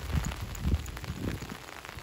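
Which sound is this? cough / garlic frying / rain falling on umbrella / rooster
rain falling on umbrella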